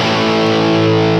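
Electric guitar played through a Universal Audio Lion 68 Super Lead amp, a loud, sustained distorted chord ringing thick and warm, close and continuous for a brief moment.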